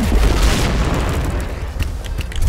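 Bomb going off in the Point Blank shooter game, a heavy booming blast with a deep low rumble that fills the opening second, then trails into rolling noise and scattered pops.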